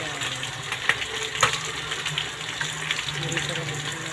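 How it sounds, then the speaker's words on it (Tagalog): Chopped pechay sautéing in a pan, a soft steady sizzle with faint stirring clatter, fairly quiet and close. "Atin po gigisahin ang ating ginayat ng pechay."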